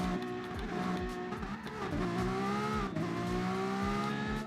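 Several Ferrari race car engines in the video game GT Sport roar and rev together at high pitch, with gear shifts and a brief tire squeal, loud and continuous.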